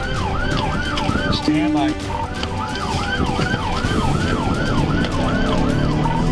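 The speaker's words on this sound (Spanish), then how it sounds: "Con luces parpadeando y sirenas sonando, el sospechoso huyó" Police sirens wail in repeated rising-and-falling sweeps during a high-speed chase through heavy westbound traffic, loud and close over road and engine noise, while a voice speaks briefly over a radio.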